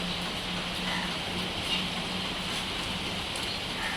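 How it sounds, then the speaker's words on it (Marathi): Light rain falls steadily, a soft continuous patter with no other sounds, even and unbroken throughout. "मस्त पाऊस चालू आहे रिमझिम का होईना पण चालू आहे"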